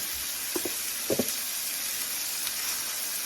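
Very thin sliced onions frying on a hot surface for smash burgers, a steady close sizzle with a few brief knocks and scrapes partway through.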